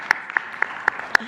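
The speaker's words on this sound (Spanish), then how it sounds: "Un aplauso." A handful of people at a presidential press conference clap individually, five or six distinct, separate claps spread over about a second, fairly close and sharp, with a faint voice at the end.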